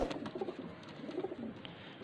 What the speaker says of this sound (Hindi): ये मोतियों वाला कबूतर है बहुत अच्छा